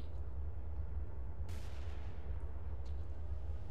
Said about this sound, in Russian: А выстрелы, кстати, интересны.